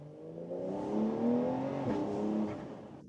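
A Porsche 911 Carrera S convertible engine drones with the roof open, rising in a smooth rev that swells and then eases back over a few seconds.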